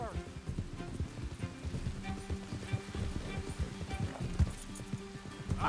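Horse hooves clip-clop in Red Dead Redemption 2, a steady run of soft, dense hoofbeats close by, with speech over them throughout.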